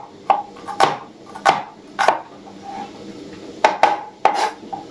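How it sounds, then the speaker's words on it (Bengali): An onion chopped with a knife on a board, eight or so distinct, close chops in an uneven rhythm, each a sharp thud with a short crunchy tail. "পেঁয়াজটা এখানে কেটে দিচ্ছি।"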